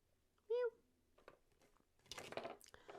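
A cat gives one short, clear meow, followed by a quiet pause and then a burst of rustling and clattering nearby, with a person's voice faintly present.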